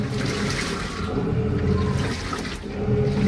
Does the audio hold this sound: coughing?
no